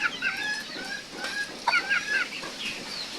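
A pair of serama bantam chickens clucking and giving short chirpy calls, close by, several overlapping bursts of fowl vocalizations over a quiet background.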